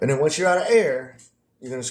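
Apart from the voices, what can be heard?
None of the usual background noises is heard.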